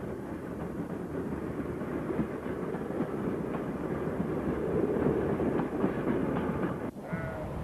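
An EM1 electric locomotive hauls a rake of vintage carriages past Crowden on the Woodhead line, a continuous rumbling roll with faint rhythmic clicking of wheels over rail joints, steady and moderately close, with no voices.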